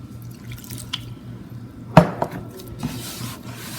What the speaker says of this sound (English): I'm going to add some more liquid.